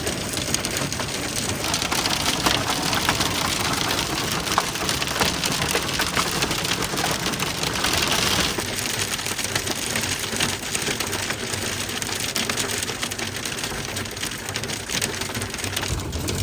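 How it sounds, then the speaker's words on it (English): Tiny hailstones fall outdoors in a dense, continuous patter, a loud, close crackle of ice striking hard surfaces that holds steady throughout with no voices. "I'm just showing you just how much hail there's been."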